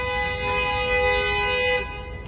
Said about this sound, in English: So much honking.